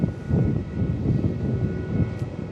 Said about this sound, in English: Jetstar comes into its bay.